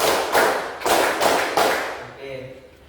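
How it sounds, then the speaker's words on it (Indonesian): A classroom group claps in a counted pattern, three loud bursts of clapping in quick succession, then quieter clapping fading under faint voices. "Tepuk 1, tepuk 2, tepuk 3. Tepuk 2, 3."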